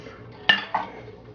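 A spoon stirring chicken pot pie filling in a pot with fresh parsley, heard as two short metallic clinks against the pot, spaced apart, close and moderately loud over a quiet background.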